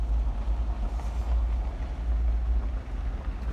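A heavy front loader engine rumbles steadily at close range, a deep continuous drone with no voices.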